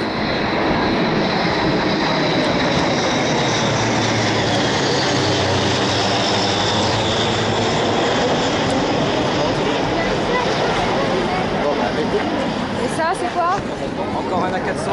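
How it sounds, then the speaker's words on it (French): An Airbus A400M military transport aircraft's broad engine roar fills the whole clip, loud and steady as it passes overhead during a Bastille Day flypast in Paris, with people talking faintly beneath it. "La 400 c'est le plus gros avion français, lui."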